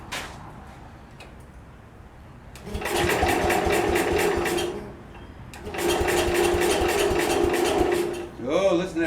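A 1966 Wheel Horse garden tractor engine is given choke and cranked twice, each attempt a loud, rapid churning run of a few seconds, separated by a quiet pause, with a short rising whine at the end.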